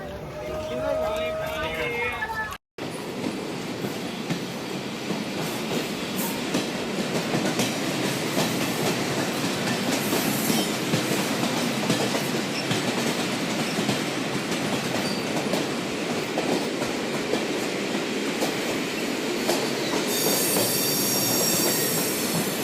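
A train pulls out of Partur station after the green flag and runs along the rails, a loud steady rumble with wheel squeal and clickety-clack throughout, after a brief cutout near the start; voices are faintly present.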